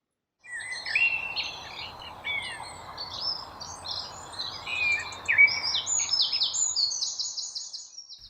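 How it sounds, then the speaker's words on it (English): Many birds sing and chirp together in a dense, continuous dawn chorus, with overlapping high whistles and trills against a soft background hiss. "listening to the dawn chorus"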